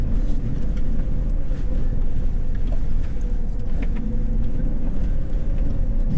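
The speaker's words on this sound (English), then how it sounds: "This truck nice is smooth. We're just gonna go right up it." A 2019 Lexus LX570 climbs a steep off-road slope, its engine a steady, loud rumble that holds without a break throughout, with faint rattles and bumps from the terrain over it.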